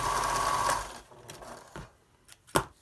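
A sewing machine stitches a face mask made from a T-shirt, running in a steady close whir for about a second before stopping, followed by a few faint clicks and handling sounds.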